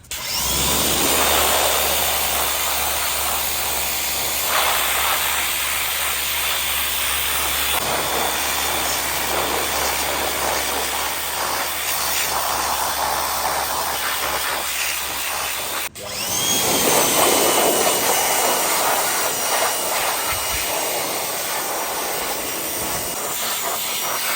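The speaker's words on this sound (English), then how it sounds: "So I'm actually sanding the smooth body of the bypass right now." Continuous harsh, hissing abrasion of sanding on the metal body of a bypass shock for a Toyota Tacoma runs throughout, loud and close, with a brief break before it resumes.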